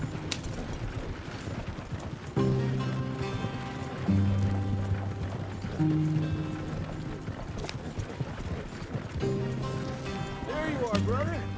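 Horse hooves clip-clop at a steady gallop in Red Dead Redemption 2, a rhythmic close patter under game music and occasional character dialogue.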